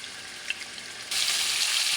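Honey-soy pork shoulder steak frying in a hot pan, a steady hiss of sizzling fat that abruptly jumps louder and brighter partway through, with no voices.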